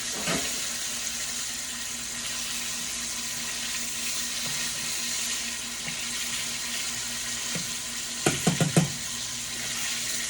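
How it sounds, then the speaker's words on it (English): Homemade chicken wings frying in hot oil, a steady sizzling hiss running throughout, with a few brief clattering knocks near the end. "They're frying up beautifully."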